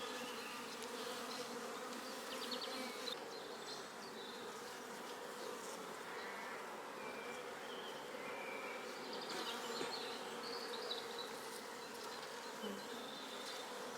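Honeybees drone steadily around a backyard hive, a dense, continuous buzz of many insects at close range with individual wings flitting past the microphone, no voices present.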